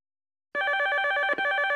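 A telephone bell rings loudly and steadily after a moment of silence, with a brief break in the ring partway through; no voices are heard.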